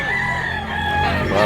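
A rooster crows once, loud and close, one long drawn-out call at a busy Cebu Tabunok animal market.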